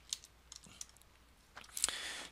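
Typing on a computer keyboard while entering a tax rate in Excel: a few faint, sparse key clicks in a quiet room.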